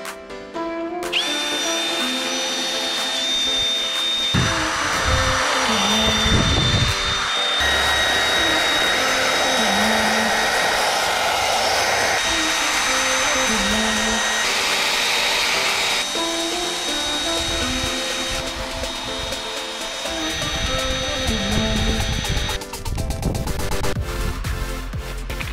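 A power drill honing an engine block whines steadily and continuously, its pitch shifting slightly as it grinds against metal, loud and close with brief dips in load.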